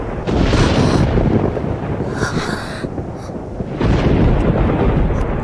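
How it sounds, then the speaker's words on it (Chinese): A thunder clap in a period drama breaks as a loud, broad rumbling roar that swells, eases briefly and surges again, filling the whole stretch close and heavy. "这是打雷了吗？"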